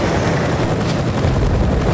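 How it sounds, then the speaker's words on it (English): A video game helicopter approaches as a steady, loud rotor drone with broadband wash and rapid low thumping, holding level for the whole stretch with no talk over it. "Oh yeah, there's a chopper coming too."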